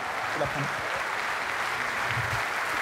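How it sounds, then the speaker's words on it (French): Steady, dense applause from a theatre audience at a mining commemoration event, sustained evenly throughout without pauses. "on va d'ailleurs les applaudir"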